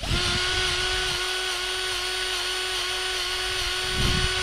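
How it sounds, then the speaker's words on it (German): A Makita cordless drill runs at full speed driving a grease gun attachment, a steady close high-pitched whine with a strong constant tone that holds throughout, swelling slightly near the end. "Das ist Vollgas, ne? Mehr kann der Akkuschrauber nicht."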